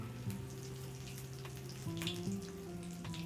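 Samosas deep-frying in hot oil: a soft, steady crackle and bubbling sizzle with scattered pops, fairly faint and continuous, with a low background hum beneath and no speech.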